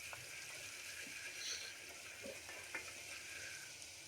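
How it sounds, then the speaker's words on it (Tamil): Turmeric and ginger garlic paste fry in sesame oil for mutton chukka, giving a faint, soft sizzle with occasional light stirring taps and spoon clinks. "கொஞ்சமாக நல்லெண்ணெய் சேர்த்துட்டு அதில் 1/4 டீஸ்பூன் மஞ்சள் தூள், கொஞ்சம் இஞ்சி பூண்டு விழுது ரெண்டத்தையும் சேர்த்துட்டு"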